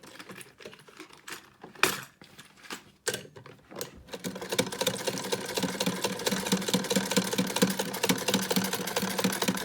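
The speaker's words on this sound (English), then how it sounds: "Now I've got a machine that will power through anything. One of the reasons I love this old Singer." An old Singer sewing machine top stitches over elastic on a face mask, a steady mechanical whir and needle chatter that builds after a few short starts and then runs continuously and close.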